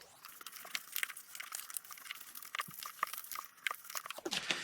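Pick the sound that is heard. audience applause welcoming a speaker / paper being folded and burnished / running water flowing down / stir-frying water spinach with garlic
paper being folded and burnished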